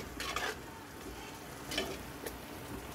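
Whole spices and round dried red chilies frying in a pan for a mutton stew: a soft, steady sizzle with a few brief scrapes of stirring, fairly quiet and without speech.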